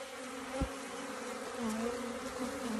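Honey bees swarm and buzz around an open hive during a beekeeper's inspection, a dense, steady drone with individual insects swooping close and passing by. A brief thump comes partway through.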